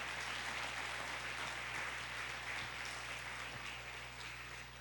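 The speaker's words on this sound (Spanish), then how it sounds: "Dale un aplauso fuerte al Espíritu Santo de Dios." Applause from a church congregation during a Spanish-language family service, a faint, even patter of many hands heard from a distance over a low electrical hum.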